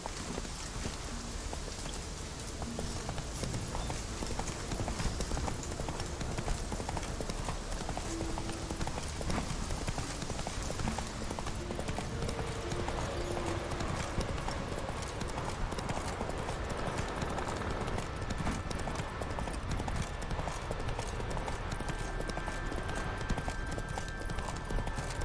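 Horse hooves in the video game Witcher 3: a steady, close clip-clop of hoofbeats running continuously over a constant rain-like hiss, with game sounds in the background.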